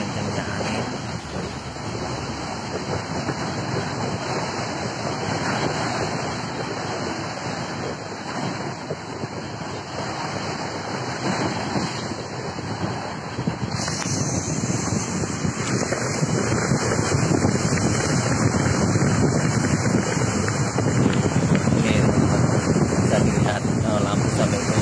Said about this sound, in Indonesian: ombaknya kenceng banget sampai muncrat ke ini ya, ke tempat duduk yang di atas ini, saking kencengnya angin